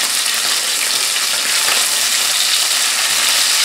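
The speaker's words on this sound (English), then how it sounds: "the salmon's been cooking now for about 4 minutes, and I'm gonna flip it" A sockeye or Atlantic salmon fillet sizzling in a frying pan, a loud, steady, close crackling hiss of frying oil that holds without a break.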